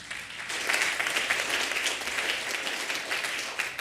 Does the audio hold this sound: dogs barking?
no